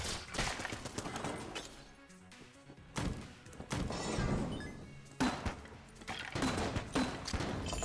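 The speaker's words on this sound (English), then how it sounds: "Our grenades just bounce off of enemies." Grenades bounce and clatter off enemies during a frantic Enter the Gungeon firefight, with dense bursts of gunfire, crashes and sharp impacts repeating loudly and close for the whole stretch, with brief lulls between volleys.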